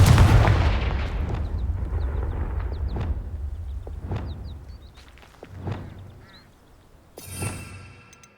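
A Confringo blast spell cast in Hogwarts Legacy, sounding as a series of booming explosive hits spaced roughly a second apart over a low rumble, with small chirps and quacks in the background.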